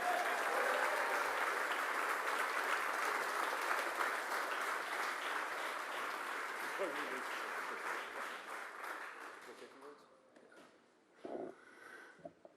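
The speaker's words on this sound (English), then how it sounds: "Give a round of applause for Ted." An audience at a political event led by Senator JD Vance claps in sustained, loud applause that gradually thins and fades out, with a voice briefly heard near the end.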